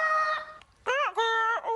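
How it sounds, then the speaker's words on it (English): A played sound effect of a strange Humpty bird call gives loud, harmonic rooster-like crowing in three sustained bursts with brief gaps between them. "Wonder what kind of sound a Humpty bird would make."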